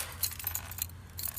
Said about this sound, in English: Have my keys